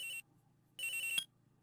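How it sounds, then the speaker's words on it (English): A cell phone in Phoenix Wright: Trials and Tribulations rings in two short electronic bursts, a brief tone, a pause, then a longer ring ending abruptly, thin and isolated against near-silence. "I received a call on my cell phone."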